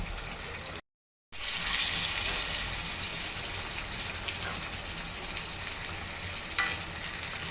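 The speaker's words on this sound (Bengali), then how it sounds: "এখন এই কেটে রাখা টমেটোগুলো দিয়ে দিব। 2টা কাঁচামরিচ।" Chopped tomatoes and two green chilies tipped into sizzling masala for a pabda fish curry, a brief gap, then a bright hissing sizzle that swells and settles into steady frying with faint stirring.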